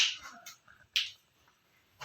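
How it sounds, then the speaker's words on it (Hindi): Finger snaps ring out in a children's classroom counting activity: about three crisp, distinct snaps spaced roughly a second apart, close and fairly clear, with faint quieter clicks between them. "कितनी चुटकी बजाई थी?"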